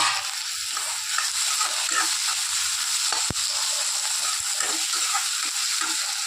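Onions and tomatoes fry in a pan with a steady, close hiss and crackle that runs unbroken throughout, marked by one sharp tap partway through.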